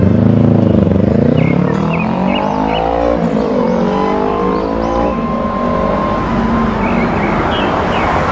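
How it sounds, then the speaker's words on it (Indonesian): A motorcycle drives off from a house, heading toward a cemetery in a Sundanese folk tale; the engine revs loudly and pitches up, then settles into a steady drone with thin whistling tones above it, and no talk over it. "dius motor maju ninggalkeun imahna"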